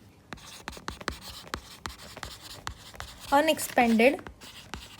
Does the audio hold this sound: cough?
no